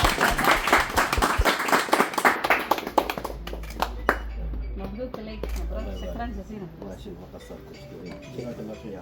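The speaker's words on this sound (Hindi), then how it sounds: "भरपूर तालियां उनके लिए बजती रहनी चाहिए।" A crowd's applause at a certificate distribution ceremony, dense and steady for several seconds, then thinning out as a voice speaks over a low hum.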